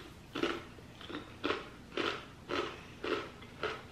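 Crunchmaster multi-seed baked rice crackers are bitten in seven crisp, evenly spaced crunches, close and distinct against a quiet background.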